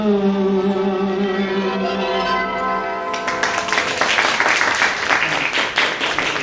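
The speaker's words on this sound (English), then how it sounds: "Let's all clap once again for Kumari Arpita for such a lovely performance" An audience claps after a temple dance performance at a full moon program in a Devi temple; a sustained chord of bell-like tones rings first, then broad steady clapping takes over and continues to the end.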